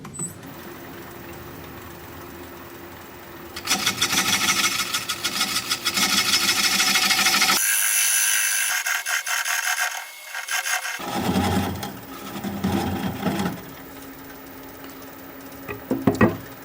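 A wood lathe turning a large Ponderosa pine bowl: steady raspy scraping of a gouge cutting the spinning wood in long passes, broken by a short pause and then a further stretch of softer cutting.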